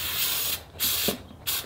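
Three short hissing bursts of aerosol cleaner sprayed onto a generator carburetor needle during storm-prep maintenance, close and fairly loud, separated by brief pauses.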